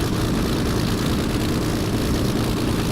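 Spitfire propeller aircraft in Flight Simulator X touching down on a runway with a slight bounce, its engine a steady, loud, dense rumble with broadband wind roar throughout, no voices.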